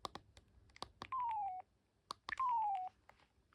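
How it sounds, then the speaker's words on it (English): A Philips DECT 511 cordless phone gives its call-button tones: several short button beeps, then two falling electronic chirps about a second apart, close and clean with no talk. "I like when I try and press call, it does this sound. Sounds like a sound from like an old mobile phone."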